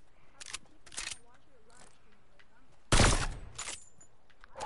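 Gunfire in the video game Fortnite, a few sharp bursts of shots spread across the moment, the loudest near the middle, with quieter game sounds between and a player talking.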